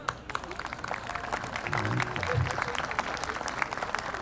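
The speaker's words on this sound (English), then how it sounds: "So I would like to applaud them." Audience applause for festival volunteers at the Rod of Iron Freedom Festival awards, a steady, moderate-level patter of clapping throughout with some low voices murmuring beneath it.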